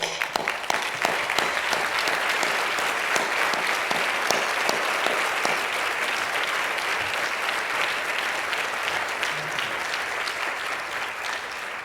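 Steady applause from an audience at a community college presidential inauguration, honoring the board of trustees as they stand; dense, sustained clapping fills the space at an even level throughout with no voices on top.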